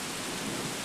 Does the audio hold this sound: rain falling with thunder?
yes